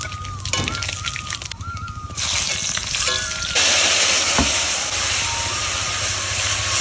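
Dried red chillies, cumin and nigella seeds sizzle loudly in hot oil, a dense steady hiss that swells and stays strong as more spices drop in, with a brief voice near the start.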